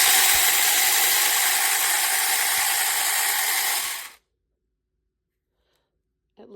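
A Saker 6-inch mini cordless electric chainsaw running with a steady loud whirring buzz for about four seconds, then cutting off abruptly into silence.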